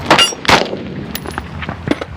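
Gunfire at an outdoor shooting range, two sharp loud shots close together, followed by faint, brief metallic tinks from bullets striking a steel target downrange.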